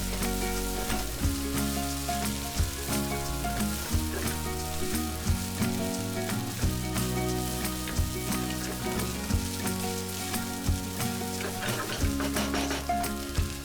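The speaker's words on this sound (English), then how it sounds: "add 1 large bowl of white basmati rice cooked and fry the rice for about 3 to 4 minutes" Cooked white basmati rice frying in a pan for fried rice with chicken and bacon, a steady close sizzle with irregular scraping and stirring knocks throughout, no voices.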